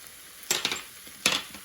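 Peas tossed in a pan with garam masala, green chili, salt, pepper, dry mango powder and red chili for a samosa filling, giving two short bursts of stirring and sizzle over a faint steady hiss.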